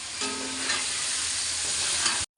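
Potatoes fry in a hot pan with oil, salt and turmeric, a loud, steady close sizzle with faint scraping, cutting off abruptly near the end.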